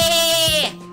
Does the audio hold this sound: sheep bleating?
yes